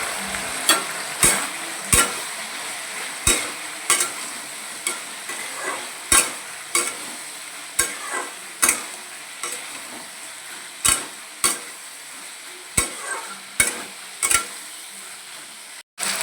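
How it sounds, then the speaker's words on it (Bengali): Fish head, hilsa, cooked with taro stems and sautéed with salt and turmeric gives a steady sizzle. Repeated sharp scrapes of a spatula stir through the pan at a fairly even rhythm. "নুন আর হলুদ দিয়ে আবার কষিয়ে নিলাম ওই মিনিট দুয়েক মতো"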